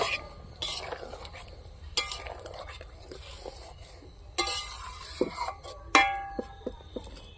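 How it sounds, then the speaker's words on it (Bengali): Egg curry with peas is stirred in a pan, giving scattered scraping strokes and sharp clinks of the utensil against the metal at close range, with a low sizzle beneath and no talking. "একটু নাড়াচাড়া করে দিচ্ছি"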